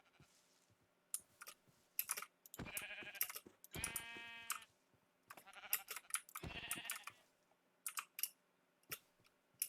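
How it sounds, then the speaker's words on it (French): Baby sheep bleating in a video game, several short harmonic bleats spaced across the clip among scattered game clicks and effect sounds, no talk. "C'était vraiment un bébé mouton"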